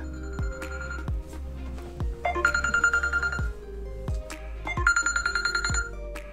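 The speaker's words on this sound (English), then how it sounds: "Oh, my phone's ringing." A phone ringtone plays as a repeating, bright electronic melody with a steady pulsing rhythm, fairly loud and close, with no talking over it.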